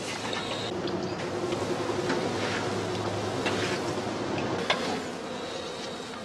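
Honey bees swarming in a traditional straw skep on the northern German heathland, a steady close buzzing hum with occasional faint clicks and knocks.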